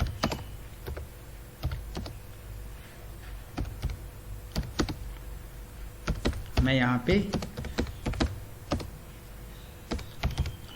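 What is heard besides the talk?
typing on a computer keyboard, entering an address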